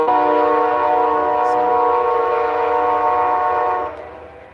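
An original Amtrak Genesis locomotive sounds its multi-chime horn in one long, loud, steady blast that cuts off and fades near the end.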